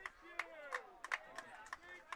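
Scattered, light handclaps ring out for the referee at a rugby match, a handful of sharp claps spread over two seconds beneath ongoing speech.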